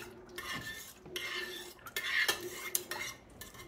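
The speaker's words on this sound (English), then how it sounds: "Stir all that up." Spoon stirring food in a pot while preparing a slow-cooked pork dish with lime juice, a few scraping, clinking strokes against the pot close up with no talk.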